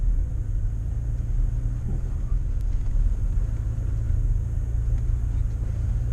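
Toyota Tacoma TRD Off-Road rolling in four-wheel-drive high along a smooth clay trail in a national forest, giving a steady low engine and tire rumble that holds even and constant throughout, with no talking.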